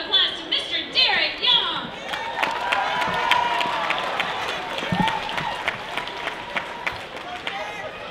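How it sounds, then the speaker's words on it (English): Applause from a crowd for a dancer performing salsa bachata at a celebrity dance event, with clapping and cheering early on, then lively background chatter and music-like tones continuing throughout. "Let's give a round of applause to Mr. Derrick."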